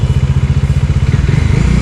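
A police motorcycle close by on a street in Valenzuela City, its engine loud with a rapid, throbbing low putter that holds steady throughout.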